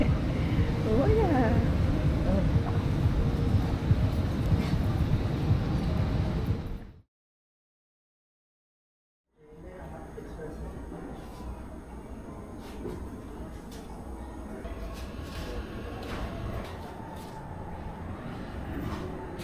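Steady rumble of a moving train on a rail journey in Sri Lanka, loud and continuous, then a sudden silent gap before the rolling noise resumes more quietly, with voices talking over it.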